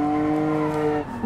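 A BMW in an autobahn driving video game revs and squeals its tires as the clutch is kicked, a steady loud engine tone that drops and shifts near the end.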